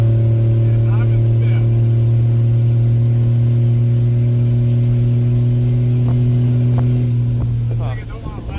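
A Cummins diesel pickup with a swapped turbo pulls hard in fifth gear, its steady low engine drone loud and close from start to finish, with people talking over it inside the cab.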